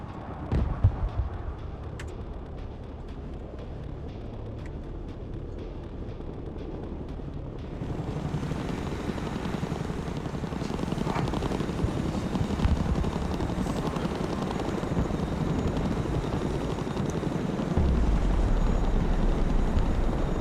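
Chinook helicopter in a video game, a low throbbing rotor hum that starts quieter and swells to a fuller, louder drone partway through, then deepens further near the end, with no talking.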